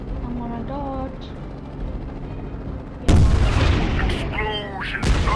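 Game explosions from the Airship.C helicopter game: a loud booming blast bursts in near the midpoint, with rumbling debris and further hits after, over continuous game noise and earlier tonal effects.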